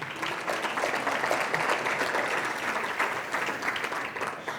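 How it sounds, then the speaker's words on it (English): An audience at the Standard Bank KZN Top Business Awards 2023 gives a sustained round of applause, a dense, even wash of many hands clapping at once that holds steady from start to finish. "We can give that a round of applause."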